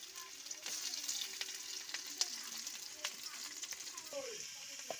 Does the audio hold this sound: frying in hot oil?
yes